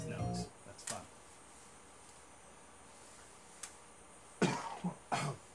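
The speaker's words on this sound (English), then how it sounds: "Excuse me for coughing" A man with a lingering cold coughs near the microphone during a Sega Genesis game session: a few short, sharp coughs spaced apart, including a closely spaced pair toward the end, over quiet background noise.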